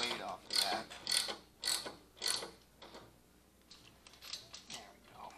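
Ratchet clicking while front motor mount bolts are loosened on a Harley-Davidson Dyna, in several short close bursts of mechanical ratcheting with pauses between, followed by quieter tool handling.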